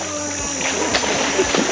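Water splashing and sloshing as people go into a pool or tank at Udaiyar Kattu, Viswamadu, Sri Lanka, heard close and continuous with voices mixed in.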